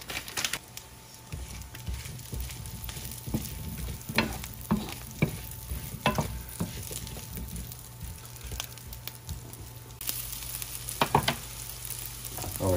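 Gnocchi frying in a skillet with garlic and Parmesan, a soft continuous sizzle broken by repeated scraping stirs and clinks of a utensil against the pan.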